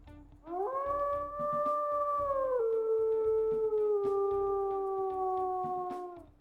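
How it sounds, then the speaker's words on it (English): A single long, clear video game wolf howl rises and holds, sliding gently downward over several seconds, smooth and sustained with a faint rhythmic background. "Yes, that's that classic nostalgia howl."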